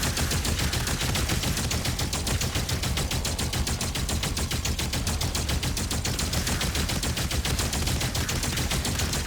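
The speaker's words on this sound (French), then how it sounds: "on va vider un peu de munitions et voilà" Rapid automatic gunfire from the video game DOOM The Dark Ages runs unbroken as ammunition is emptied. The shots come in a loud, dense, fast rhythm that lasts the whole stretch with no talking.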